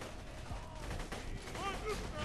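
Rapid gunfire aimed at a Goliath in the video game Borderlands 2 rattles in dense bursts, mixed with game effects and voices talking over the shooting.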